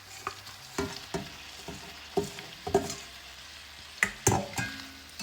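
Shrimp sizzling and frying in a Jamaican curry coconut sauce, with a steady crackle broken by repeated spoon knocks and scraping strokes as the pieces are folded in, close and fairly quiet, no talking.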